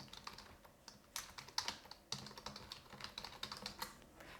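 Rapid, uneven clicks of keys on a computer keyboard, heard close up in a quiet room, with short bursts of typing separated by brief pauses.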